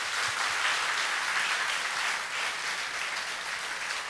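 An audience at a Korean church service gives a lecturer a round of applause, a dense, even clapping that holds steady throughout at moderate loudness with no voices over it.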